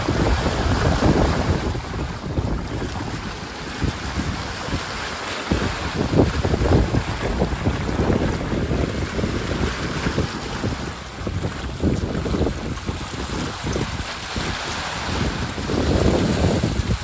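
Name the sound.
strong wind on a sailboat at sea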